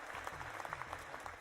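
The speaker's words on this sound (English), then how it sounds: "I'll give you some claps for that, I guess." Applause sound effect with a dense patter of many hands clapping at a steady, moderate level, brief and alone.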